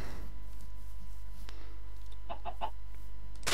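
Chickens clucking in Minecraft, a quick burst of three or four short clucks heard mid-distance over a steady low hum, with a sharp click just before.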